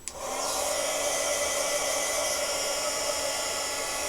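A heat tool drying ink on a handmade card starts with a click and then whirs as a loud, steady blower hum with a high whine, continuing close and unbroken.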